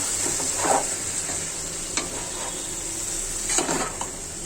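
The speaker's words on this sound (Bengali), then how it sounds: "এটা এখন নেড়ে নিব" Lentils cooked with bottle gourd and pointed gourd stirred in a pan, with a steady soft sizzle and a few scraping strokes of a spoon against the metal, close and clear with no talking.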